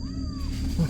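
A single short cat meow, close by, rising at the end over a low background hum.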